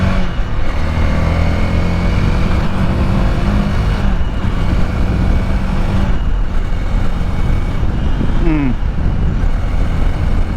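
A 2024 Honda Rebel 300 motorcycle fitted with a K&N air filter and a new spark plug accelerates, a loud, continuous engine roar with rising tones and rushing wind across the whole stretch.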